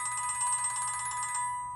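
A phone ringtone trills in rapid, evenly pulsed electronic rings, fairly loud and close, then cuts off abruptly near the end over faint background hum.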